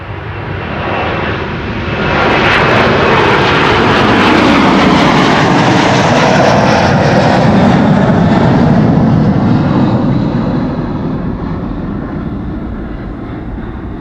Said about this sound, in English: Delta Airlines Flight 135 to Detroit